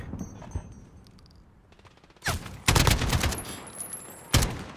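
AK rifle gunfire in a video game livestream, quiet at first, then loud close bursts of automatic fire around the middle and a final shot near the end.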